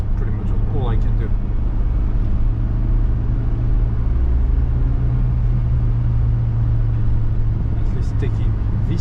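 A 1996 Suzuki Jimny Sierra Elk drives along a road in Japan, giving a loud, steady low engine and road rumble inside the vehicle that runs without a break.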